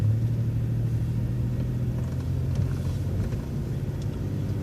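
A transit bus engine rumbles steadily at low pitch as the bus drives and makes a right turn into a driveway leaving a park-and-ride lot, heard from inside the bus.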